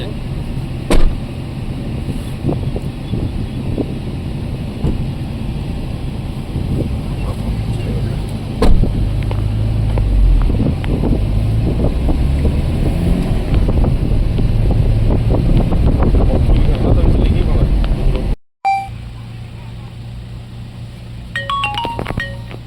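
A motor runs steadily outdoors in a Punjab border village, giving a constant low drone with wind buffeting the microphone and voices in the background. The sound cuts out abruptly, and a quieter hum follows.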